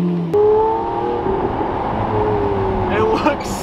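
Lamborghini Aventador supercar engine humming and revving near a trailer at a loading dock, a steady loud drone with rising tones, briefly swelling near the end.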